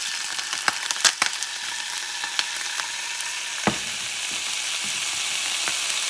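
Leftover cooked turkey meat frying in hot grease, a steady crackling sizzle throughout with a few sharper pops and spatters, close and moderately loud, no talking.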